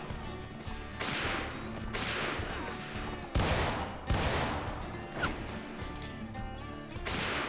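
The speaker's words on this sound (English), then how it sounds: "I seem to have adjusted the gun sounds also." Repeated musket volleys from a Civil War battle in the Mount & Blade mod video game, sharp cracking shots firing in uneven bursts roughly every second, loud and dense with overlapping reports against a busy battlefield background.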